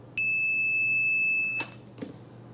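A multimeter in continuity mode, testing the connector pins of a traffic signal cable, gives one steady electronic beep of about a second and a half over a faint low hum, followed by a brief soft clunk.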